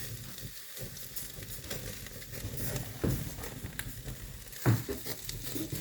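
Pork belly sizzling on a charcoal grill over a wood-fired furnace, a steady crackling hiss with occasional louder pops and spits, heard close.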